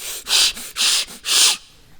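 Three loud, rough, rhythmic rasping strokes imitate a saw cutting, evenly paced and close, used as a sound effect in a dentist tale.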